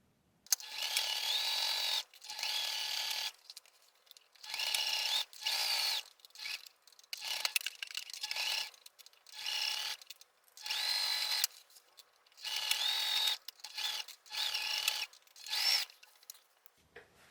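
A sewing machine stitches small fabric scraps and tulle for a pouch in repeated whirring bursts of a second or two each, with brief pauses between them as the stitching reverses for backstitches, close and clear.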